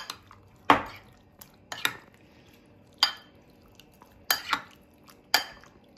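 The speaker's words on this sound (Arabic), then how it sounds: "بعد كده هقلب" Spiced meat and potatoes being stirred in a pot for kebab halla, with a handful of sharp metallic scrapes and clinks of a utensil against the pot, spaced irregularly over a quiet background.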